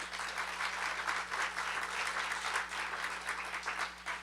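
Applause for the Lord at a Bible festival church gathering, a dense steady wash of many hands clapping from a sizable crowd, sustained and fairly even throughout with a faint hum beneath.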